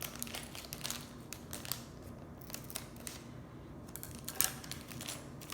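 Scissors snipping open a LEGO plastic bag, a string of small crisp clicks and cuts with faint crinkling, close and quiet in an otherwise silent room.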